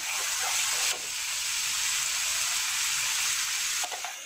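A ground masala paste for kadai mushroom sautés in a pan with a loud, steady sizzle. Two brief stirring scrapes break the hiss near the start and the end.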